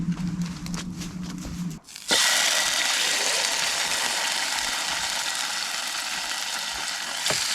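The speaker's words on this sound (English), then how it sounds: "Oh, I love that sizzle." Food sizzles over a woodland campfire, a steady broadband hiss that cuts in loudly after a brief quieter stretch and holds close and constant to the end, with no talk.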